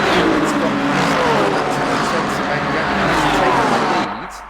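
GT3 race cars, including a yellow Lamborghini, roaring flat out along the Mulsanne straight at Le Mans in a racing sim, a loud sustained engine drone with a commentator talking over it, fading near the end.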